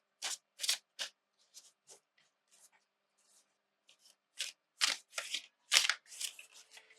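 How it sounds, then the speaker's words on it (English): A stiff Vintage Christmas Tarot deck is shuffled overhand, making crisp, irregular bursts of papery riffling and slapping, close and otherwise quiet. "I would probably recommend this deck to just stick with an overhand shuffle."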